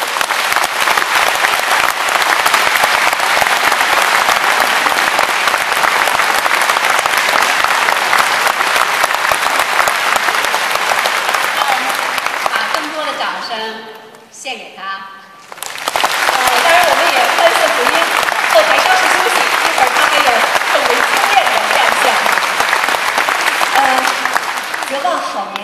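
Sustained loud concert-hall applause welcoming a young Tibetan singer at a concert, thick clapping that dips briefly midway before surging back for a long stretch.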